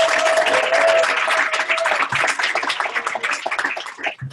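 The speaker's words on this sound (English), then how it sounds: "So big round of applause for Bernadette, everyone." Sustained applause from an audience at a conference, dense clapping that fills the space before thinning out toward the end.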